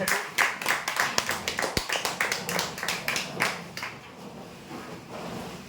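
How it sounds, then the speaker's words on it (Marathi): Applause at a prize draw for a customer who won a computer table, with a crowd clapping in a brisk, dense rhythm that gradually thins and fades toward the end. "दोन बाय तीन कम्प्युटर टेबलसाठी जोरदार टाळ्या"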